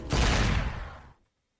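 Gunfire from the Devil May Cry 3 video game: a loud, dense burst of rapid shots lasting about a second, then cutting off abruptly into silence.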